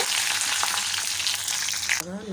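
Fenugreek, dried chili and curry leaves sizzle loudly in hot oil in a pan, a continuous close frying hiss with faint stirring scrapes that stops abruptly near the end.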